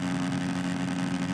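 Motorcycle engine in the Monster Energy Supercross 2 video game hums steadily at a high, even pitch, a brief loud continuous drone without pauses.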